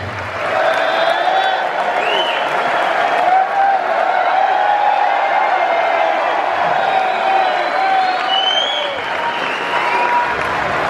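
A large audience applauds and cheers steadily at a stage Q&A event, with whoops rising over dense sustained clapping throughout.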